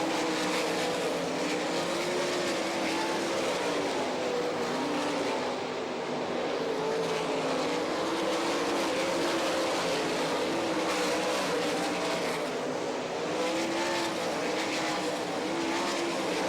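World of Outlaws sprint cars race around the Eldora half-mile dirt track in Rossburg, Ohio, a continuous loud roar of many engines that swells and fades slightly as the pack circles, with no clear voices over it.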